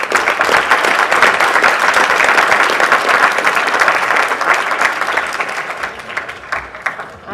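Sustained audience applause at a gubernatorial forum, a dense, loud wash of many hands clapping that holds steady for several seconds before slowly thinning out.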